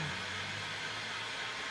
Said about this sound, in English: use the heat gun for the final time to flash off all the solvents